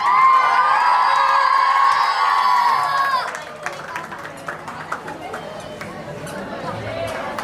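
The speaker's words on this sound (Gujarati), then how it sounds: "તો જોરદાર તાળીઓ" A school audience at the Saraswati Institute 2024 annual function cheers loudly, with children shouting and whooping, then the roar drops to scattered clapping and crowd chatter.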